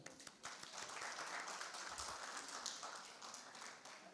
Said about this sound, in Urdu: تو میں آپ سب سے درخواست گزار ہوں کہ پہلے اقبال بھائی کے لیے تالیاں.